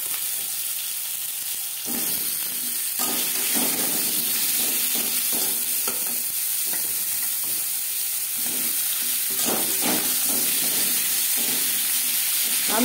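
Cut potatoes fry in a little oil with five-spice and bay leaf, sizzling loudly and steadily with hissing bursts as they are stirred, with no talk.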